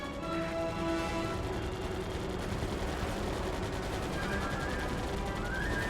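Enemy machine-gun fire in the air-combat video game Air Conflicts: Pacific Carriers, a fast continuous rattle over a droning engine hum, with tonal sound effects weaving through.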